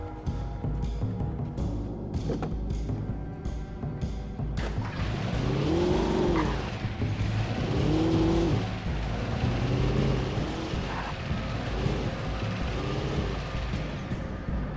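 A car driven in the survival-horror game Alan Wake, its engine droning steadily and rising in pitch as it accelerates, loud and near, with no talking over it.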